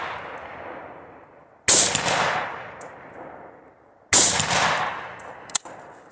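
A PSA GF3 AK-47 rifle fitted with a slant muzzle brake fires three rounds outdoors: two loud, sharp cracks a couple of seconds apart, each with a long ringing decay, then a quicker third report.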